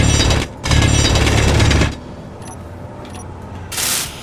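In the Space Engineers video game, a hand drill grinds into rock in loud, rattling jackhammer-like bursts, one short and one long, then dies away before a brief softer whir returns.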